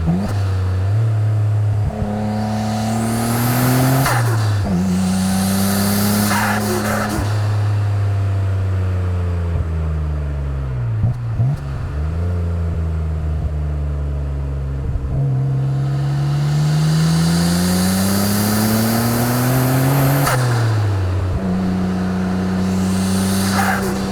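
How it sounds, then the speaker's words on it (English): A 1993 Nissan Skyline R32 GT-R with a twin-turbo engine pulls hard on a twisty mountain touge road, revving up and dropping through repeated gear changes, loud and close, with no talk. "the turbos also have a very special sound because of the twins"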